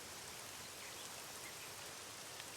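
Steady outdoor rain pours down as a dense, even hiss, with no break or change across the short stretch.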